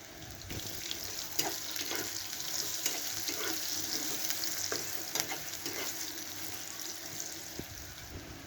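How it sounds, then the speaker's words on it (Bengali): Eggplant (brinjal) slices sizzle and crackle steadily in a pan of hot oil, with scattered sharp pops and spatters over a constant hiss. "বেগুনগুলো আমার লাল লাল করে ভাজা হয়ে গেছে, এখন তুলে নেব।"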